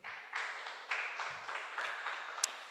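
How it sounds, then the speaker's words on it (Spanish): A church congregation claps together in a steady, faint wash of applause with slight surges of rhythm, heard from a distance and without any voices over it. "Denle un aplauso al Señor"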